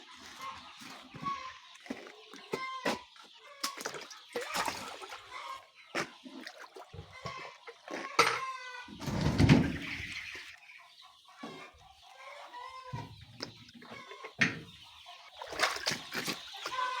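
Young chickens kept thirsty cluck and cheep as they rush toward a waterer, scattered bird calls with scuffling and light water sounds, plus a brief voice partway through.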